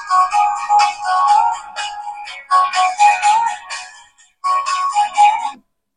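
Music plays from the small built-in speaker of an Amazfit Bip 6 smartwatch running Zepp OS 5, a bright, thin tune in three phrases separated by short pauses, with no talking.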